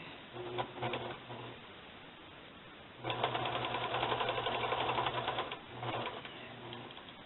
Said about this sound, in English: And that's kind of about all the machine sewing I would do.